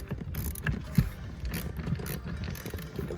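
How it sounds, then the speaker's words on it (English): Small screws being tightened by hand inside the cabin of a 2013 Volvo XC90, close-up ratcheting and clicking of a screwdriver with a few sharper ticks, steady and fairly quiet throughout. "just a matter of getting the last little screws in here."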